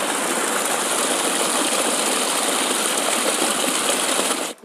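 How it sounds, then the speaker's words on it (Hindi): Steady, loud rush of rainwater pouring through a drain channel, a continuous broadband roar with no pauses until it cuts off abruptly near the end. "वहाँ से देख सकते हैं कितना पानी बह रहा है अभी।"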